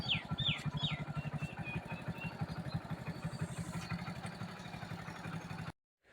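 Motorcycle engine running steadily with a boy riding on the bike, a continuous close rumble with rhythmic low pulsing and high bird chirps near the start, then cutting to silence at the end.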